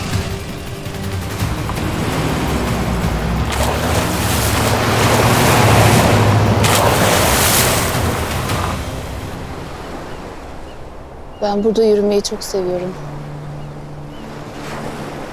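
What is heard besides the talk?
sea waves on the shore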